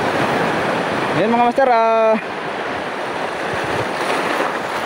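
Sea waves wash onto the shore at Calaguas Island as a steady, loud rushing hiss with wind buffeting the microphone. Someone speaks briefly over it partway through.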